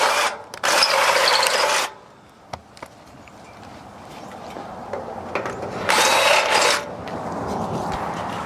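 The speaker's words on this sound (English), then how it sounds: "Just whack a 10mm drill through them." A 10mm drill boring through the steel chassis of a 300TDI four-by-four overlander vehicle: two loud, grinding bursts of several seconds each, separated by quieter clanks and handling noise in a workshop.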